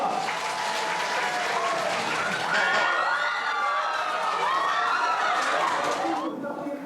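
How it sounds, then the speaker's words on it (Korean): Big round of applause from a studio audience, steady dense clapping with cheering and laughter mixed in, voices audible throughout, fading near the end. "큰 박수 부탁드리겠습니다"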